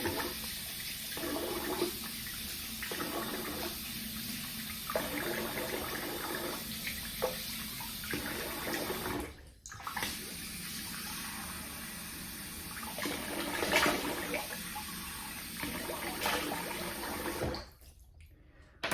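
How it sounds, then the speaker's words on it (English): Running water splashes steadily into a sink nearby as a face is rinsed, with intermittent splashing and brief pauses, ending in a short break before the flow resumes. "I'm gonna rinse the face here."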